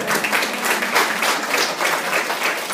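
A room full of people applauds at a library gathering in Poland before a fashion show, with dense, steady clapping that carries on evenly throughout.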